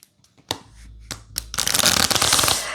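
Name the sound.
tarot cards being shuffled by hand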